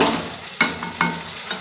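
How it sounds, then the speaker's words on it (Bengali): Potatoes are added to a pan and fried while being stirred: a continuous sizzle broken by two sharp scraping stirs close up, then a fainter third. "তো এবার আলুটা আমি দিয়ে দেব।"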